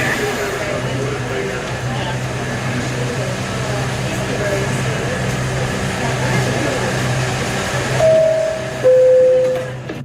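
Steady low rumble of a subway car in motion fills the space, with faint voices in the background and a sharp beeping tone near the end.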